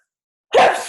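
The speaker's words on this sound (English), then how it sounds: "Hold on, I'm going to sneeze." One sharp, loud sneeze bursts out at close range after a moment of silence, then quickly fades.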